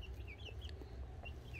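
Backyard chickens, including a naked-neck hen, cluck softly at close range amid a steady low background rumble, with some higher bird calls mixed in and no talking.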